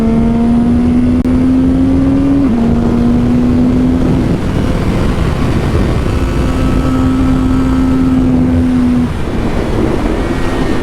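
A CFMOTO 675 SR-R supersport motorcycle accelerating hard toward its redline, a steady droning engine tone that climbs, drops briefly at a gear change, then climbs again under loud wind rush.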